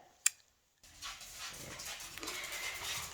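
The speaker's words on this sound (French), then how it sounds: "Petit chien saute énervé" A small, agitated dog jumps about, giving one sharp yelp near the start, then brief silence, then scuffling, panting and restless movement close by.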